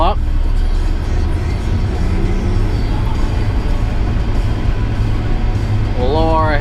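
A combine harvester throttles up to start threshing soybeans, a loud continuous heavy engine roar and mechanical drone close by, with a voice briefly heard near the end.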